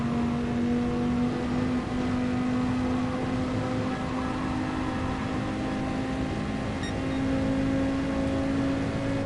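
A Dodge Viper racing in Gran Turismo Sport sends out a steady, droning engine note held at a constant pitch for the whole stretch. The tone shifts only slightly as gears change, with no voices over it.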